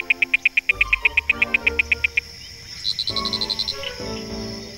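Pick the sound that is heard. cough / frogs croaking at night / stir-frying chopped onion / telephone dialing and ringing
frogs croaking at night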